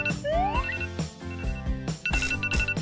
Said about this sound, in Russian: Ой, будильник.